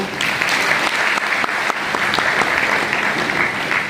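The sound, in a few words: loud audience applause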